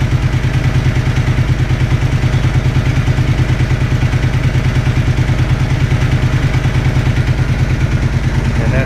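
A motorcycle engine idles steadily at about 1140 rpm with its lights switched on during a regulator test after swapping an original-equipment unit for an RM stator, giving a loud, even low chug with mechanical clatter throughout.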